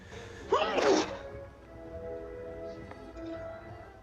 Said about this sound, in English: boy, he has a sneezing problem